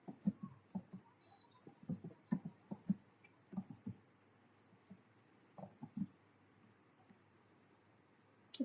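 A computer mouse clicks repeatedly at an uneven pace, with soft, close taps scattered across quiet room tone.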